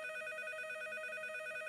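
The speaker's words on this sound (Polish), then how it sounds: "Przepraszam cię, Kajtusiu, mam tyle telefonów od rana" A cartoon telephone rings with a steady, bright electronic trill that holds evenly at moderate loudness throughout, with no talking over it.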